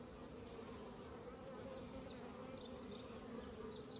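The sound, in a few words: honeybees buzzing as they fly off a hive frame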